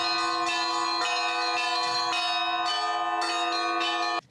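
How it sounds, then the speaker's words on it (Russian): Church bells ring out over the Kulikovo battlefield in Tula region, striking repeated overlapping peals in a steady rhythm, loud and sustained with a bright ringing tone and no voices. "заливает колокольный звон."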